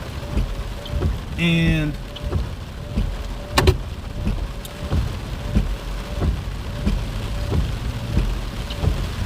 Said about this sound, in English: the rain is getting more intense